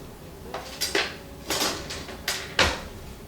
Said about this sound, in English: I'm actually going to grab a spatula.